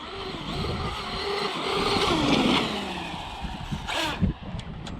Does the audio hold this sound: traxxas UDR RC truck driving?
yes